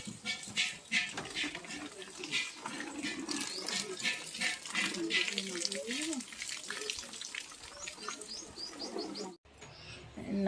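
Water poured onto okra and other vegetable plants in a home garden: a trickling, splashing flow comes and goes, while pigeons coo softly nearby.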